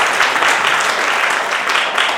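Guests at a civil wedding ceremony applaud steadily, a loud, dense wash of many hands clapping that runs throughout without any break.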